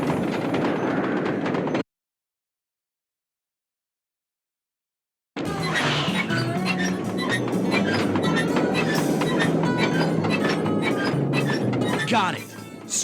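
Train sequence from the stealth video game Sly 2, with steady rumbling rail noise, metallic clinks and thunks continuing loudly after a brief silent gap, while game characters talk over it.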